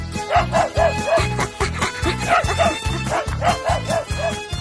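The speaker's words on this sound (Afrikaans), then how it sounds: "het hy geblaf" A dog barks and yips in quick, rhythmic bursts, loud and close, with some whimpering, howl-like tones and no talking.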